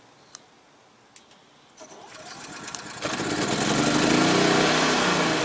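An Energizer eZV3200P portable generator starts up after a few faint clicks. The engine catches, and a loud, steady mechanical running note builds and holds close by, with no talking.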